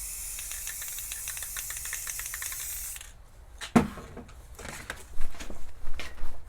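Clear coat hissing steadily from a spray can for about three seconds, a broad close spray, then it stops, followed by a sharp tap and some light rattling and handling noises.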